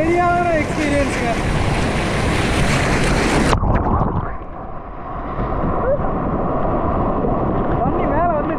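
Water pours down at Maranatty Waterfalls in a loud, close roar that turns abruptly muffled partway through, as if the microphone went under or behind the flow. A voice is faintly audible within the rush.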